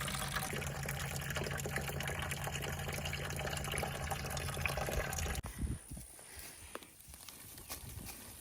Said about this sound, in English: Going to fill that bucket with good worm juice